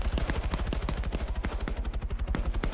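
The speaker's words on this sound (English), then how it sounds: "You just heard that chopper take a hit, as it is just doing a lot of flaring right now" Rapid gunfire bursts hammer close and loud against a helicopter in the Arma video game as it flares and takes hits, steady low rotor rumble running underneath the whole time.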